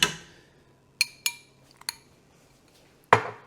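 A metal utensil clinks and scrapes against a dish while green chile is mixed into cornbread sausage stuffing. The sounds are a few sharp, separate knocks, close and clear, with quiet gaps between them.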